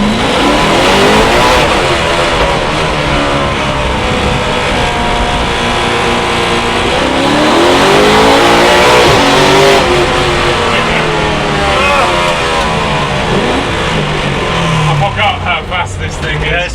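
A BMW E30 M3 track car fitted with an S65 V8 revs hard and accelerates, its loud, rasping engine note rising and falling up close for the whole stretch, with a few voices heard over it.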